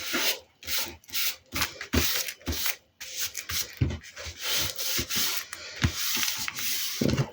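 Decoupage paper is rubbed smooth by hand in repeated brisk, scratchy strokes, close and fairly quiet, with short gaps between passes and no talking.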